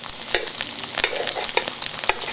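Chicken sears in a cast iron pot with a loud, steady sizzle, broken by sharp scrapes and knocks from a utensil as it is moved about, with nobody speaking.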